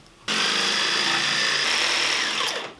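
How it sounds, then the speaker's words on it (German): A jigsaw starts abruptly and cuts through wood with a steady high buzzing whine, then winds down at the end. "Das schneiden wir jetzt mit der Stichsäge aus"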